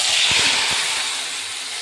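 Chicken pieces dropped into hot oil give a steady, loud hissing sizzle, with a few soft thuds at the start as the pieces go in.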